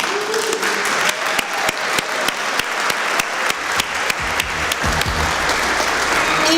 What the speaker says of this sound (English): Perhaps it's a good moment to give them the first big applause whenever they enter.